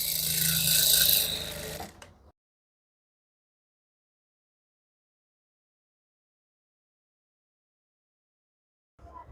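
A sewing machine stitching a palazzo whirs steadily for about two seconds before stopping, followed by a long silence and a brief faint return of sound at the end.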